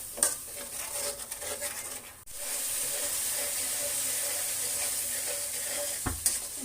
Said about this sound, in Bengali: শুকনো মরিচ, ধনিয়া আর জিরার গুঁড়ো। সব মশলাগুলো ভালোভাবে কষিয়ে নেব।